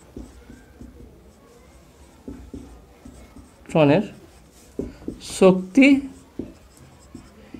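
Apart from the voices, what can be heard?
writing on board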